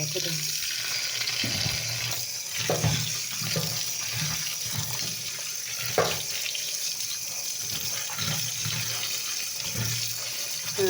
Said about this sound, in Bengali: এবার আমি শাকটাকে ধুবো।